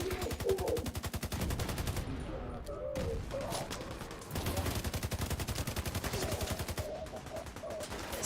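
Rapid automatic gunfire rattles through a shooter-game fight against cleaners, dense bursts running nearly the whole time with a couple of brief pauses, loud and close.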